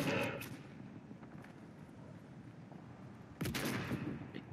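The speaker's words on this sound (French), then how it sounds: "Oh, ça tire, ça tire." Fortnite gunfire rattles in bursts during a Desert Domination match, a rapid volley at the start and another sharp burst near the end over a rumbling game background.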